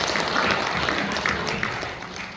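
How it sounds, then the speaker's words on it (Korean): Applause from a congregation at a church men's fellowship leadership training service, a continuous mass of clapping that holds steady, then slowly fades toward the end. "그리고 박수 한번 쳐주시면"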